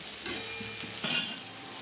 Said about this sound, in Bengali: আলুটা হালকা আঁচে ভেজে নেব।